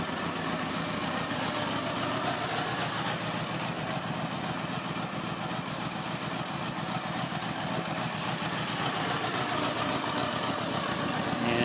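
A stock-exhaust 1976 Honda Goldwing engine idles steadily on a cold start, a continuous, even rumble held close and fairly loud for the whole stretch, with no voices over it.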